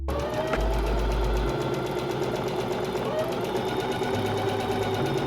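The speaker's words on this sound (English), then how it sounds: "from there I just sewed the sides together" Sewing machine stitching the sides of long scrap-fabric strips together into straps, a continuous close rapid mechanical whir with steady rhythmic knocking throughout.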